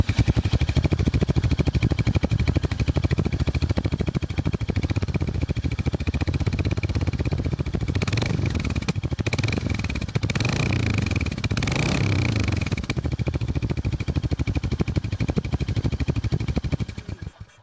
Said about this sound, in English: Let's take a little listen at the sound of that exhaust.